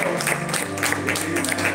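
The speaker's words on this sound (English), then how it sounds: "Give God a hand clap of praise." A church congregation claps together in a dense, steady patter of many hands, with a low murmur of voices underneath.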